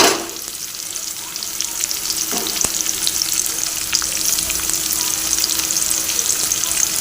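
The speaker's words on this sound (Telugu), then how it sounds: "కొంచెం సాంబార్లో కొద్దిగా వేగితే చాలు. అలాగనే ఇప్పుడు పచ్చిమిర్చి వేసేసుకున్నాం." Green chillies fry in a pan while sambar is being made, a steady close sizzle with a few stirring scrapes and taps of a utensil against the pan.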